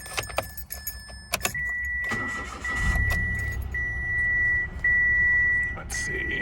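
A 2017 Mitsubishi Mirage G4 car: keys jangle, the engine cranks and catches near the mic, then idles steadily with chime tones.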